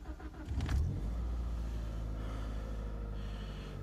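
A cold 2004 Toyota Avensis 1.6 petrol/LPG with manual gearbox cranks briefly and fires, a short rise in revs settling into a steady, close idle with no talking.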